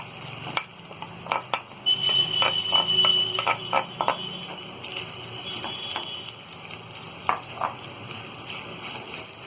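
Mashed potato and turmeric fry in a pan over a medium flame, a faint sizzle under repeated sharp clinks and scrapes of a spoon stirring against the pan.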